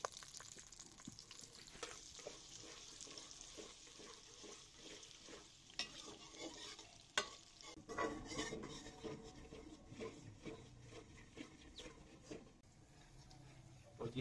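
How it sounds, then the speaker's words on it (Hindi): Onions fry in hot ghee in a pan for a palak gosht, giving a steady sizzle with stirring scrapes and clinks of utensil on metal throughout, close and fairly faint. "प्याज को अच्छी तरह से ब्राउन करेंगे।"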